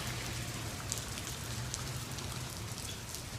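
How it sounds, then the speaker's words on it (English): Rain falls in a steady, dense hiss with faint individual drops pattering nearby, continuous and without voices. "Look, it's raining."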